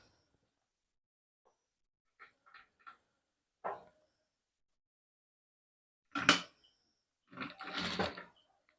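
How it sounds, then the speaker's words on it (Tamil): A sewing machine top-stitching a seam on a co-ord set: quiet at first, then a few brief mechanical ticks before two short, louder runs of stitching near the end. "இப்படியே நீட்டாக ஒரு தையல் போட போகிறோம்"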